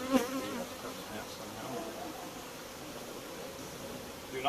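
Honeybees buzz around an open beehive with a honey super nearby, making a continuous soft, diffuse hum of many insects at close range, steady throughout with no talking.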